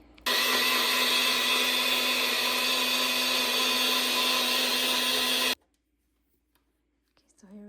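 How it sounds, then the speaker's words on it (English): A Nutribullet blender whirs loudly and steadily for about five seconds while blending a Slim Fast smoothie with banana, then cuts off abruptly, leaving near-silence before faint sounds and a voice at the end. "Okay, now we're going to blend it up. And the Nutribullet, you can use Nutribullet."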